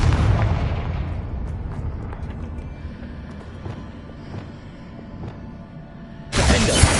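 A Confringo explosive spell in Hogwarts Legacy bursts with a loud boom and a rumbling decay, then a second powerful blast erupts near the end.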